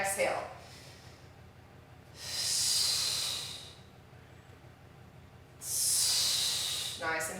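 Controlled breathing during a deep core workout: two long, loud breathy hisses close to the microphone, separated by quieter steady background, with a brief breath at the start.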